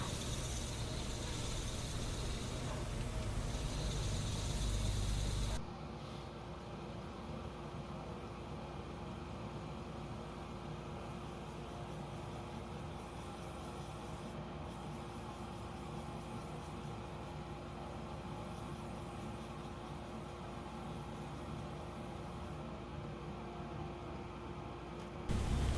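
A lathe spins a maple burl mushroom while it is dry-sanded through grits. A loud, rough hiss runs for a few seconds, then drops to a steady, quieter whir with a low motor hum for the rest.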